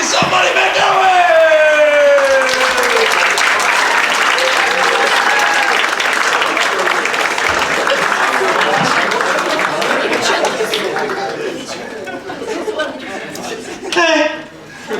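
A stand-up comedy club audience erupts in loud cheering, whooping and sustained applause that carries on strongly, then gradually thins into scattered clapping and chatter before a final short burst.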